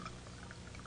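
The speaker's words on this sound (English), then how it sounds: "Pour the wine." A quiet, brief stream of wine splashing into a glass, gentle continuous gurgle and trickle lasting about a second, with no talking.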